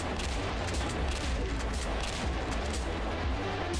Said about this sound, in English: Holy rocket launcher.